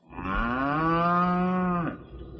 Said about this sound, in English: Well, there goes a B-flat cow now.